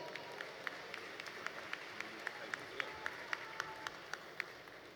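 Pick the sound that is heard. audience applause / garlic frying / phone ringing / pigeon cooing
audience applause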